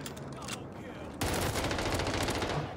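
Rapid bursts of AS-44 assault rifle fire in the shooter game Call of Duty: Vanguard, starting as a softer exchange, then a sudden louder, dense volley of shots close up for the remaining couple of seconds, with no talk.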